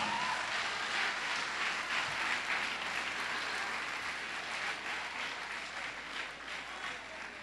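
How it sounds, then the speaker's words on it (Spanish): A church congregation claps loudly and continuously during a service, a dense wash of applause that holds steady and tapers slightly toward the end. "den un fuerte aplauso al Señor"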